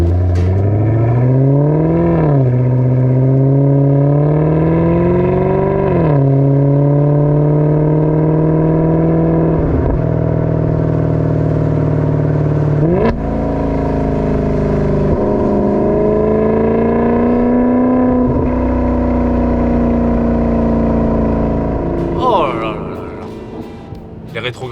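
A Maserati GranTurismo Sport's 4.7 V8 revs up close and loud through several gears, each climb in pitch cut by a brief dip at the shift, ending in a short easing off.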